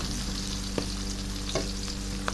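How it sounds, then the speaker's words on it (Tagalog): Chopped onion sizzles and fries steadily in a hot pan while it caramelizes, a constant close crackling broken by three faint stirring scrapes. "hintayin muna natin na mag-caramelize yung ating nilagay na onion"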